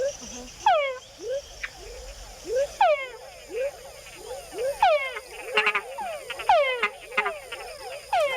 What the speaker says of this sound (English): Male frogs make the added chuck sound to attract females.